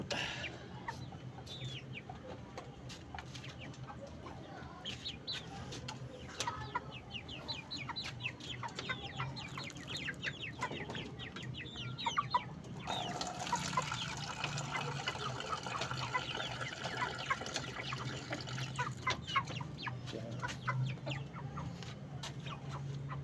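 A flock of chickens clucks continuously as they feed, the clucking steady at close range and growing busier and louder in the second half, with faint water sounds mixed in.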